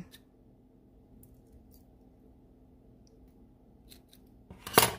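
Scissors snip through the thick string of a handmade waist bead strand, a single sharp close cut near the end after quiet handling.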